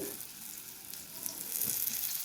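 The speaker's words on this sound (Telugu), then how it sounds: "ఈ పచ్చడి ఉంది కదా దీన్ని చేతితోటి కొంచెం కొంచెం వేసుకుంటూ ఈ ఆయిల్లో ఉడికించుకోవాలి" Wood apple chutney for a roti pachadi frying in hot oil, a steady close sizzle with faint bubbling crackle throughout and soft occasional stirring.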